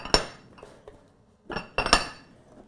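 Temp-tations ramekin storage lids being handled give a few sharp ceramic clinks and clatters in separate bursts, with quiet gaps between knocks.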